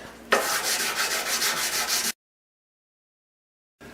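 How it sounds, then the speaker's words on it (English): A steady, abrasive whirring rub of a cordless power sander on the wood of a Carlo Robelli upright bass, loud and close for about two seconds, then abrupt silence. "This is a cordless sander."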